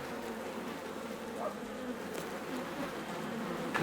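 Honeybees buzz around a hive on a mild winter day, making a steady, continuous hum at moderate volume with no talking.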